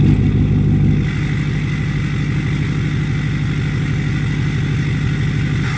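An LBZ Duramax diesel truck engine runs steadily close by, a low constant rumble that drops slightly in level after the first second and then holds even, with no voices.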